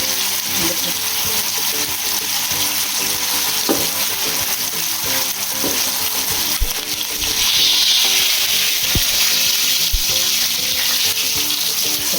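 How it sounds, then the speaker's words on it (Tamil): Fish fries Chennai style in a pan over a low flame, a continuous loud sizzle and crackle with scattered sharp pops throughout and no talking. "இப்போ நம்ம வந்து மீன் வந்து சிம்மில் வைக்கிறோம், ஸ்லோவாக வைக்கிறோங்க"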